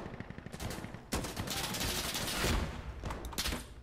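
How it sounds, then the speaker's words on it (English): Rapid automatic MP7 gunfire rattles in the game Insurgency Sandstorm, dense overlapping bursts with a few louder shots over a continuous battle din. "This guy shot me with an MP7."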